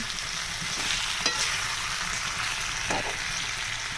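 Potato chips frying in a pan with a cumin tempering are stirred, a steady close sizzle running the whole time with a couple of louder scraping stirs partway through.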